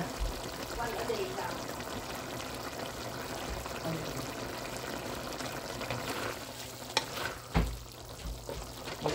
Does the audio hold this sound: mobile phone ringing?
no